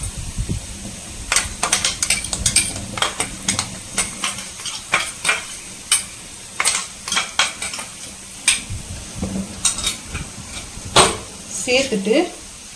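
A metal spoon scrapes and clinks against a pan as ground paste is stirred into garlic pickle, with irregular sharp taps and scrapes over a low background hum and a faint sizzle.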